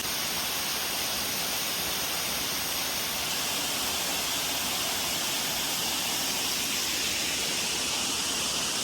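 Flowing water along the Agasthyarkoodam trekking trail gives a dense, steady hiss like a stream or small cascade, loud and unbroken, with no voices.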